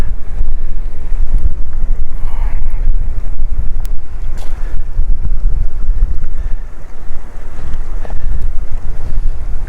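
Strong wind blows outdoors during plein air painting, buffeting the microphone with loud, rumbling gusts that roar continuously for about ten seconds with no voices.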